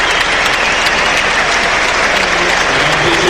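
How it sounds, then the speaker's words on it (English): Stadium crowd applauding steadily as a Brentford player is substituted off during a home league match against Brighton, dense sustained clapping filling the whole stretch at high volume. "applause for Brian and Burmo as he makes way for Sergi Canos."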